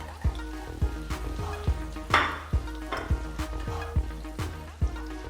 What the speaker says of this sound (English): So we're going to put in the butter. Put in some onions.